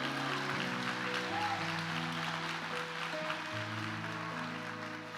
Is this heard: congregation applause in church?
yes